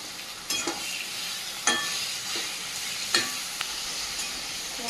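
Meat added to spices fried in a little oil in a pan, sizzling steadily with several sharp stirring scrapes at irregular intervals.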